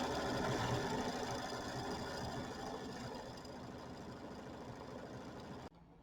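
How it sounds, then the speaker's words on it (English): Sewing machine quilting a Kimberbell mini quilt, a continuous fast mechanical whir with a steady buzzing stitch rhythm that eases slightly in level before cutting off abruptly near the end. "So here's our quilting going now."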